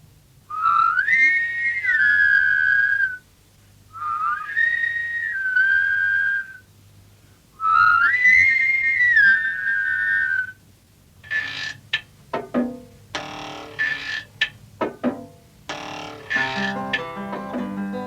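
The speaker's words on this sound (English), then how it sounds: "Windy is sure that it is all this whistling" In a Camberwick Green cartoon, several soldiers whistle together in three sustained, wavering phrases, followed by a burst of clattering, bell-like sounds and tones.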